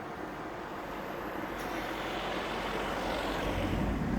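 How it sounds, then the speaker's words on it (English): A fixed-wing airplane passing overhead, a steady broadband engine roar that swells slightly louder toward the end, with no talk over it. "Plane. And a plane."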